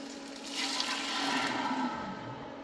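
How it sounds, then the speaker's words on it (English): Water sizzles into a hot soup pot, a brief burst of rushing, hissing sound that swells up and fades over a couple of seconds, fairly close and quiet overall. "Okay, it's going to really sizzle."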